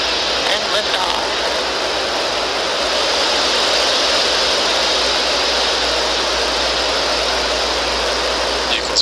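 A SpaceX Falcon 9 rocket lifts off on its Merlin 1D engines, producing a loud, steady, broadband roar that rumbles continuously throughout, with a voice talking over it.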